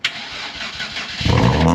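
A project parts car's engine cranks and catches, then runs roughly and loudly with a heavy, uneven rumble that swells near the end, close to the microphone.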